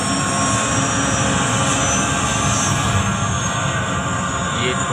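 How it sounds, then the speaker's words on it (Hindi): A loud, continuous helicopter rotor and engine roar from a simulated helicopter ride at a museum in Delhi fills the whole stretch, steady and close, with no talking. "उड़ने वाला है वही हमारा हेलीकॉप्टर।"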